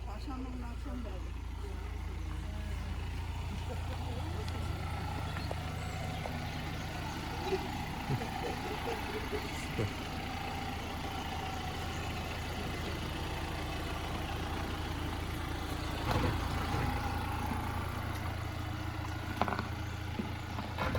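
A car engine idles with a low steady rumble as the vehicle backs up slowly, while several people talk nearby over the engine noise.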